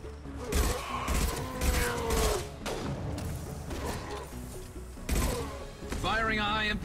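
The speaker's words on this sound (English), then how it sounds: "Firing a high impact shot." Heavy gunfire in the Mass Effect 2 video game, played as the soldier class: a series of loud, thudding shots lands in irregular bursts, amid mechanical clanks and muffled game voices.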